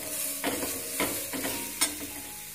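Spiced stuffing seasoned with black pepper and salt is stirred in a pan for a Mughlai paratha, a few scraping strokes over a steady soft sizzle, close and moderately quiet.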